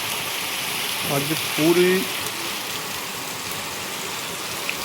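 Steady, dense hiss of heavy monsoon rain falling outdoors in Kapurthala, Punjab, continuous throughout, with a brief voice speaking over it.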